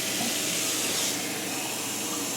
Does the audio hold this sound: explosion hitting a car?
no